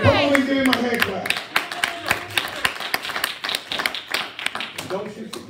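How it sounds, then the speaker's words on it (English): A church congregation claps along rapidly and unevenly during a Sunday morning sermon, dense overlapping claps filling the room while a voice speaks over the start. "Come on, give him a hand clap."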